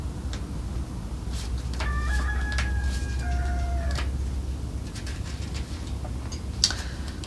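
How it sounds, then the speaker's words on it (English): A rooster crows once outdoors at moderate distance, a drawn-out call rising over a steady low background hum, with a few faint clicks around it. "there's the rooster crowing outside right now."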